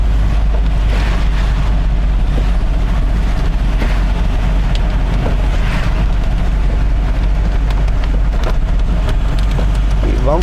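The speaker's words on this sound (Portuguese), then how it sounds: "A chuva tá comendo solto aqui." Heavy rain on a car driven through São Paulo, a constant dense wash of drumming and road hiss with low rumble, loud and steady throughout.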